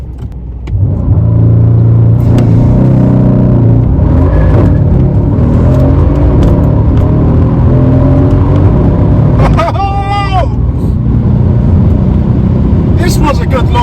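A Mercedes C63 AMG pulls away hard under launch control, its engine rumbling loud and near as it revs and accelerates, with a voice heard over it.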